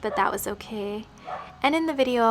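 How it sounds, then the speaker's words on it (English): A dog barks a few times, loud and near, mixed in with a person talking over it. "Apologies for the barking."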